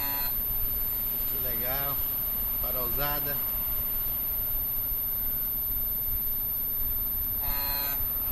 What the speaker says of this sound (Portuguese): Vamos ver a buzina dele?